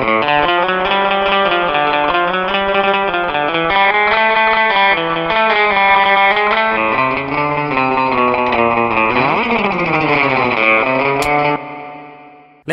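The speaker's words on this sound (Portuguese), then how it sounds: "eu vou tirar todo o reverb e colocar devagarzinho" Rockabilly electric guitar riff played through a spring reverb that is slowly turned up, bright twangy sustained notes and bends ringing continuously at full loudness before cutting off near the end.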